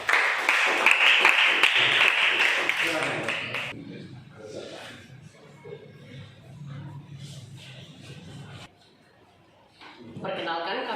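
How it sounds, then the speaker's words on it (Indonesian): Classroom audience applauding a student group presentation, a dense burst of clapping in the opening few seconds that stops abruptly, followed by quieter room sounds and voices talking. "Beri tepuk tangan untuk kelompok yang ketiga."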